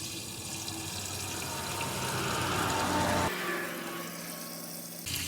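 Fuel pouring into the gas tank of a 1957 Oldsmobile Rocket, a steady close rushing, gurgling flow that cuts off sharply partway through, leaving a quieter hiss before it briefly resumes.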